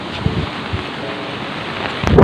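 Blustery wind roars against the microphone with low rumbling gusts, building to a stronger burst at the end.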